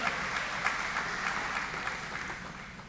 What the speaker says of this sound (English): Give them a round of applause, good job.